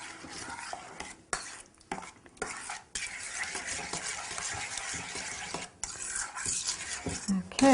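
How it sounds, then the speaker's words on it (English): Squash pie filling being stirred in a bowl until blended, with repeated scraping and clinking of a utensil against the dish, close and fairly quiet, in short uneven strokes with brief pauses. "Just stir it until it's all blended."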